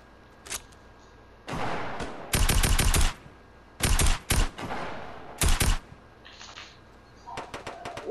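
Bursts of rapid gunfire in Fortnite season 9, with several rattling volleys of varying length spread across the stretch, loud and close, separated by quieter in-game ambience.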